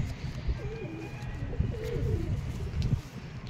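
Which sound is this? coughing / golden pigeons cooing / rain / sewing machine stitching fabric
golden pigeons cooing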